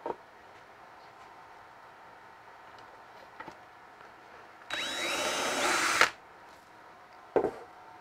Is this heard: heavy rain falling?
no